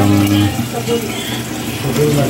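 Water pours and splashes steadily into a newly set-up aquarium, a loud close running-water sound with a low gurgling hum underneath.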